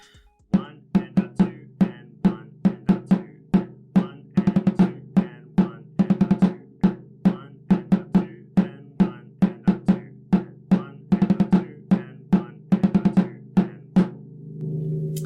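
A snare drum plays repeated five-stroke rolls, each a quick burst of strokes ending in an accent, in a steady practice rhythm, close and alone.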